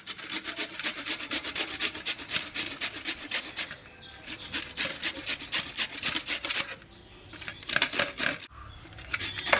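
A pumpkin being grated by hand for halwa, steady rhythmic rasping strokes close by, with brief pauses between bursts of scraping and no talk.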